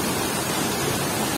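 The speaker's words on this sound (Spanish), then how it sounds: "Y del lado derecho pues está la cascada," Waterfall beside a hydroelectric plant in Puebla, a dense, constant close roar of falling water filling the whole clip with no voices.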